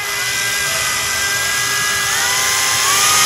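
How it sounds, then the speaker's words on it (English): Power drill turning an 11/64 bit through a wall to mount a bathroom towel bar, a steady close whine that holds level and rises slightly in loudness near the end. "just carefully drill your hole."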